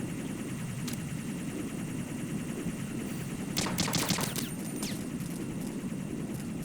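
Metal Gear Solid 2 gameplay gunfire cuts through a constant game ambience, with one sharp shot early and then a quick cluster of several rapid shots in the middle.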